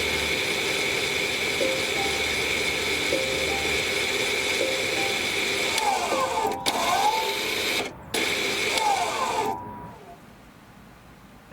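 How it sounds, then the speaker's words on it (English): Electric parking brake motor on a Volvo XC whirring steadily in the rear, a continuous mechanical hum with small clicks, a couple of brief cutouts near the end, then it stops and goes quiet. "now we'll hear the motor working in the back"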